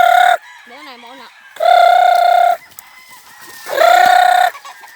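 Loud, close rooster crows repeat three times, with softer warbling clucks from chickens in the pauses between them, on a farm.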